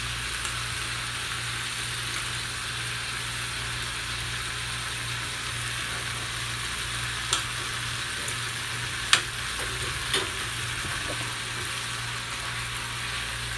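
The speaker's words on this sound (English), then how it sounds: "Let the garlic soften up too, because remember we just put the garlic in" Garlic frying and softening in a pot as the base for a ham soup, a steady low sizzle running throughout with a few faint clinks and stirs near the end.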